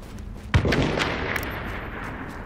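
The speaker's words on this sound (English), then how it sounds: "Gunfire, which means something's happening" A sudden loud gunshot-like blast rings out in The Division, followed by a sustained rumbling boom and crackling echoes that fade slowly, with no talking.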